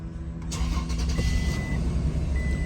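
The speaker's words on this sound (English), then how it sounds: "let's start the car" A 2015 Toyota Fortuner engine cranks and catches, then settles into a steady, close idle that runs alone through the rest of the moment.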